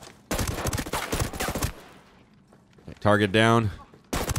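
Heavy .50-caliber rifle shots in Ghost Recon: Breakpoint during a night raid, a burst of loud booming reports followed by a fainter report, with someone talking between them.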